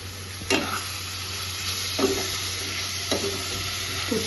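Chopped onion, capsicum and tomato sizzle steadily in a pan at home, with a few sharp scrapes of a spatula stirring the vegetables at intervals; no voices.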